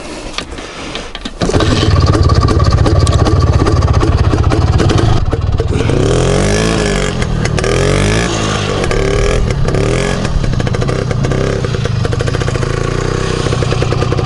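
An Izh Planeta Sport motorcycle engine catches after a quiet start, then runs loud and steady, revving with rising and falling pitch as the bike rides off up close.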